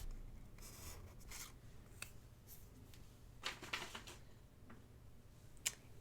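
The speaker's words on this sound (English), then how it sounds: "I'm going to draw a top line" Marker or pen drawing lines on paper for a paper craft, quiet close scratchy strokes in short bursts with soft rustles between them.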